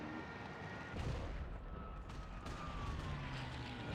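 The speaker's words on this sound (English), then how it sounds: "Get on that machine gun!" Machine gun fire and distant battle in the World War II shooter Call of Duty 2, with rumbling gunshots and booms under a continuous din of combat, fairly faint and muddy throughout.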